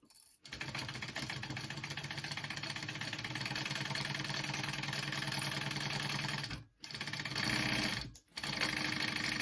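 A sewing machine runs fast stitching a handbag, a dense, steady close rattle that halts briefly twice near the end and then resumes, with no talk over it.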